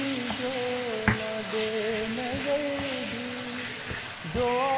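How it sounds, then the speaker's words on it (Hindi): Chicken mince cooks on a hot tawa with a steady, moderate sizzle, sprinkled with small crackles and pops, over a faint tonal hum in the background. "इसका जब तक कलर चेंज होता है तो इसको मैं भूनूंगी"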